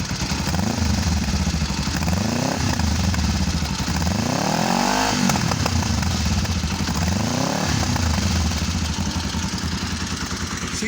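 A motorcycle engine fitted with a cheap aftermarket exhaust baffle revs up and down in repeated swells over a lumpy idle, loud and close, with slight popping on the revs.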